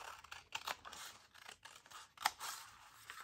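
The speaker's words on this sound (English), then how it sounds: "so I'm just going to trim." Scissors trim paper for a handmade no-sew mini journal, giving a quiet run of short snipping and scraping cuts, with a louder clip near the end and no voice.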